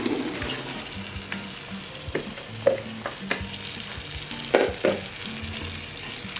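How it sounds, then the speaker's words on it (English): Onions sauté in melted butter for vegetarian French onion soup, a constant close sizzle broken by occasional spatula scrapes and sharper pops, heard on its own without talk. "So it's time to put our onions in,"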